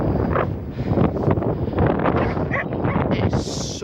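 Strong wind sweeps across an open field, battering the microphone with a loud, continuous low roar that surges and eases, and a dog may be faintly audible.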